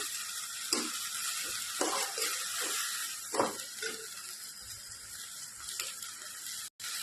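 Prawns fry in hot oil in a pan, giving a steady crackling sizzle with several sharper spits and pops, close and alone without talk.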